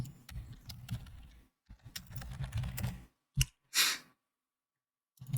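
Quick bursts of typing on a computer keyboard, clustered key clicks separated by short pauses and a couple of isolated taps near the end, close and fairly quiet.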